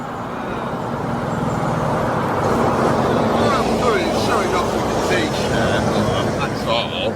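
Heavy lorries rumbling past on a nearby road on a visit to Castle Howard, a steady loud roar of traffic swelling and fading while someone talks over it.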